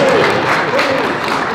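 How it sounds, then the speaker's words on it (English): Brief audience clapping at a gun-rights rally, blended with a voice speaking over it. "somebody clap for that"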